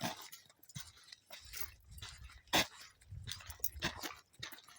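Several dogs scuffle in a fight, with irregular bursts of snarls, whimpers and sharp yelps, one loud yelp standing out among quieter scrambling and growling at moderate distance.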